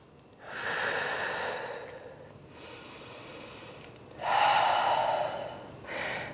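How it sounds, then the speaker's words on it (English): Slow, deep breaths during a hip mobility workout come in three long, audible inhale and exhale swells, the third the strongest, followed by the start of another. They are close and unhurried, with no talking. "taking a few smooth, deep breaths"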